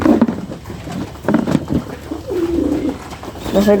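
Pigeons in a pigeon house cooing close by, with repeated soft throaty coos and rolling calls overlapping one another.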